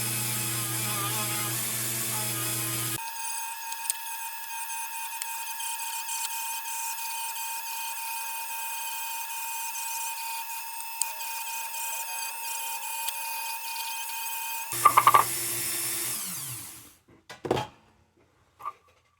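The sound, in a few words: rotary tool with nylon abrasive bit scrubbing rust off lantern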